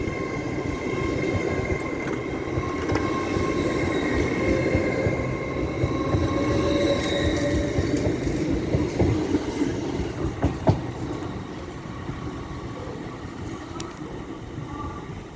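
A Class 802 train passes through Doncaster station on the East Coast Main Line, a loud sustained rumble with clickety-clack from the wheels and occasional squeals over about fifteen seconds.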